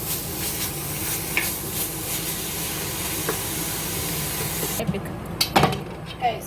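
Mince mixture in a hot pot is stirred with a spoon, giving a steady sizzle and hiss under scraping stirring strokes, with a few sharper clinks near the end.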